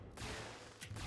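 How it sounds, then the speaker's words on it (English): Fireworks firing in the tower defense game Tower Defense Simulator, a dense crackling burst that fills the clip, with a second, sharper pop near the end. "these fireworks jumping in now"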